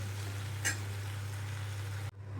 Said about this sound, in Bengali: এবার আমি এর মধ্যে জল দিয়ে দিলাম